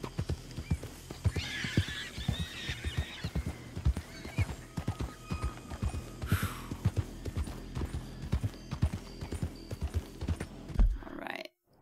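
A horse in Red Dead Redemption 2 trots with steady, rhythmic hoof clops and gives a clear whinny near the start, loud and close, before the sound cuts off abruptly at the end.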